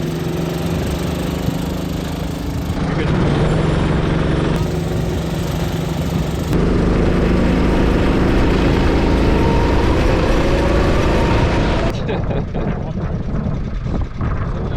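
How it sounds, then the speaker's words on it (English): A field of small go-kart engines drones steadily and loudly as the karts roll out onto the NJMP circuit for their out laps, the buzzing pitch holding near-constant with slight shifts as they pass. "the field rolls out for their outlaps here at the Avenger"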